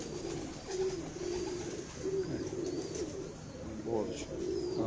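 Kasuri pigeon cooing in a loft, a repeating series of low throaty coos at steady intervals, moderately close, over a constant hum of background noise.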